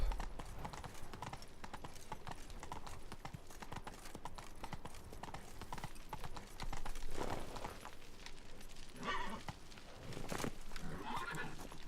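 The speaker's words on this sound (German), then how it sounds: "So schön Trab." Horse trotting in the Witcher 3: Blood and Wine game, in the region of Beauclair, with steady clip-clop hoofbeats running throughout at close range, a whinny or two, and a game soundtrack underneath.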